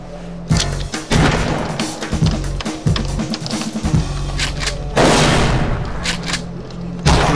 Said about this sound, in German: Oder sollen wir es nochmal mit einer Granate versuchen?